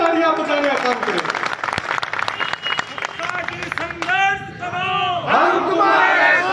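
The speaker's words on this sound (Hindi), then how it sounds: "इस बात के लिए एक बार जोरदार तालियां बजाने का काम करें।" A large crowd at a rally in Madhya Pradesh claps and cheers loudly, with shouting voices and slogan-like cries rising over the dense applause throughout.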